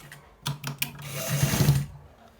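A sewing machine stitches a pocket in one short steady run of rapid needle strokes, close and fairly loud, after a few clicks of handling.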